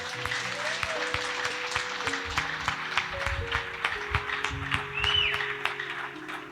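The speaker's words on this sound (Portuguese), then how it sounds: "Aplauda ao Senhor aí, bem forte." A church congregation applauds steadily during a worship service, sustained moderate clapping with scattered sharper claps, while faint tones and a brief voice sit underneath.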